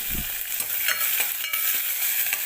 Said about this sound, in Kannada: ಒಗ್ಗರಣೆಗೆ ಈಗ ಈರುಳ್ಳಿ ಹಾಕ್ತಾ ಇದ್ದೀನಿ ಅರ್ಧ ಈರುಳ್ಳಿ